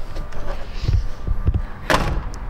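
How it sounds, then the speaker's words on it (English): A couple of dull thuds come first, then a sharp, solid slam of a 1934 Ford pickup's steel door near the end, nearby and fairly loud over low background noise. "Doors shut nice."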